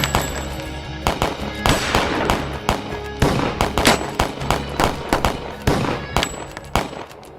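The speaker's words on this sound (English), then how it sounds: "gunfire rang out like thunder." Loud, rapid gunfire in dense overlapping volleys, shots cracking continuously with no pauses, like a chaotic firefight.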